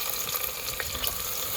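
Onions frying in hot oil in a small copper pot, a steady close crackling sizzle with scattered pops and faint stirring, with no talk.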